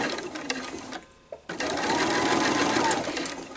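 A sewing machine stitches a fabric placemat under the presser foot, running in a steady, loud whir that stops briefly and then starts again.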